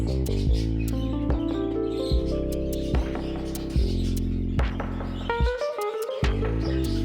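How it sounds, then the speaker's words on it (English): Pet show budgerigars chirp in flight cages on a terrace aviary, their quick high twitters faint and scattered beneath steady, louder background music throughout. "This is my show Budgie section, my all-time favorite bird."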